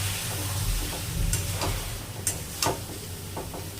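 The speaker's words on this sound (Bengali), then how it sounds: "এবারে এই যে কাবলি ছোলাগুলো এর মধ্যে ঢেলে দেবো, ঢেলে ভালো করে মিশিয়ে নেব" Boiled kabuli chickpeas are poured into a pan of fried spice masala for ghugni and mixed together, giving a steady sizzle close by with several sharper scrapes and knocks from the stirring.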